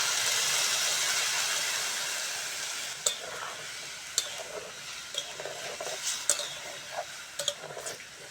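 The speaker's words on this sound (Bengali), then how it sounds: "এবার জল দিয়ে দেবো।" Water goes into a pan of lightly fried vegetables with salt and turmeric, a strong hissing sizzle that gradually fades while a utensil clinks and scrapes against the pan several times.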